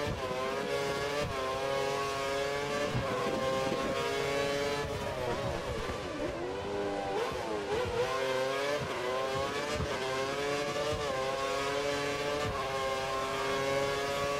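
A Formula 1 car engine in the racing game F1 2013 on Xbox 360 howls at high revs, its harmonic whine rising and dipping through gear shifts and corners, with faint other cars behind, loud and continuous with no talk.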